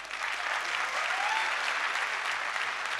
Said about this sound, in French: que je vous demande d'applaudir également très fort